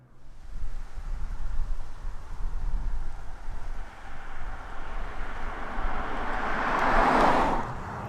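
A BYD Seal electric car drives along with soft, steady road and wind rumble that swells into a louder whoosh near the end, no engine note and no talk.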